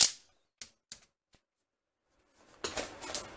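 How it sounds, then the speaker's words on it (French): A few sharp mechanical clicks ring out one after another as a Fortmeier bipod's legs unfold, then a brief pause before a rougher clattering rattle of metal parts shifting close by. "Je vais maintenant complètement déplier les branches."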